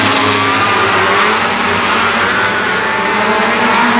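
Outlaw Midget race cars take the green flag at Flamboro Speedway in a loud, continuous engine roar, with several motors revving together and accelerating close by, and no talk over it.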